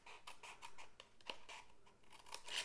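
Scissors snipping along score lines in paper for a craft shadow box, a quick series of soft crisp cuts, close but very quiet.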